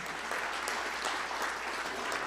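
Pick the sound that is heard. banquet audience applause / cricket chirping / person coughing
banquet audience applause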